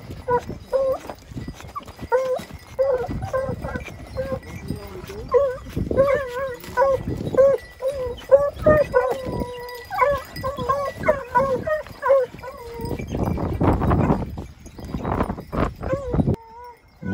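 A pack of hunting hounds bays steadily in French vineyards during an evening hunt. The barks and howls come in dense, overlapping bursts at mid distance, with a louder, rougher stretch near the end.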